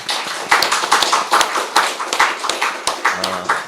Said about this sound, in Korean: 우리가 함께 격려의 박수 한번 해드리도록 하겠습니다